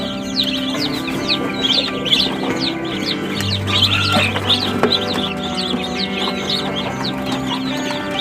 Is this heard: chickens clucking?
yes